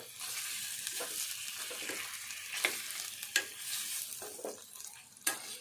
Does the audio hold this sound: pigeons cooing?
no